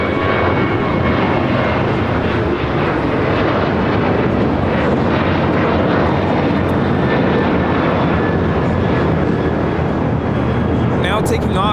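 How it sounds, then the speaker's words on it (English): A United Airlines Boeing 737-900ER takes off from a large airport, its jet engines producing a loud, sustained roar throughout, with people talking over the noise. "this is United Airlines 1062 taking off to Las Vegas on a 737-900ER"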